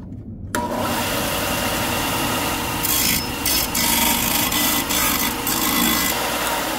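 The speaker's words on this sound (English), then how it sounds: "Now I just gotta grind to those lines." An angle grinder works a small metal fabrication tab down to marked lines, a steady loud abrasive rasp that starts abruptly and keeps going, with slight surges in pitch and intensity as the wheel bites.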